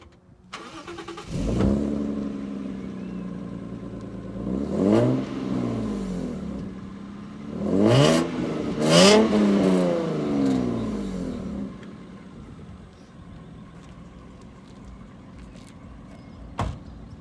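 A Lexus IS200 with a non-stock exhaust cranks and catches, then settles into a rumbling idle broken by several sharp revs that rise and fall, with a deep, throaty exhaust note.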